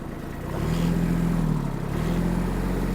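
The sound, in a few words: Kubota A-195 mini tractor engine revving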